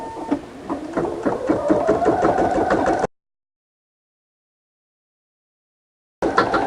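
An embroidery machine stitching a design onto a garment, giving a rapid rhythmic mechanical stitching that lasts about three seconds, falls silent, then resumes briefly.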